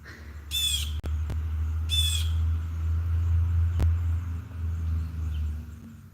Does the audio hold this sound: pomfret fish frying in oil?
no